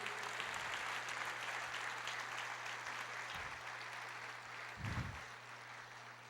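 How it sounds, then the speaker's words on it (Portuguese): A church congregation applauds, a continuous wash of many hands clapping at moderate distance over a steady low hum, fading slightly toward the end. "Você pode aplaudir o Senhor"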